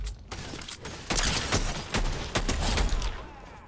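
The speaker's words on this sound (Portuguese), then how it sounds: "Vamos testar essa pistola aqui, velho." Rapid shots from Doctor Doom's pistol in Fortnite crack out in a fast, steady string of sharp, loud reports over game background noise.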